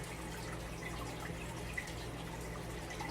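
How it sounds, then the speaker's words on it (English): Faint running water trickles steadily in the background, a soft continuous wash with no talk over it. "I always wondered what's the running water sound in the background."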